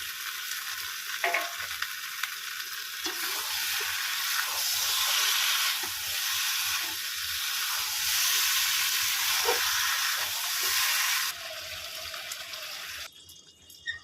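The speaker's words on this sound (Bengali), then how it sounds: "আমি আলুগুলো দিয়ে কষাবো" Potatoes fry in a spiced masala for mutton curry, making a continuous close sizzle with bursts of louder hissing and occasional stirring scrapes, with no talk.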